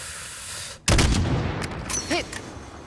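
A single loud sniper rifle shot in a Modern Warfare video game, striking sharply out of quiet ambience and followed by a decaying echo and faint game sounds.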